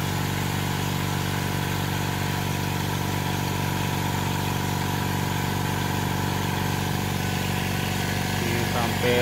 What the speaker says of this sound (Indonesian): Ini kompresor oilless ya. Sangat halus sekali ya suaranya.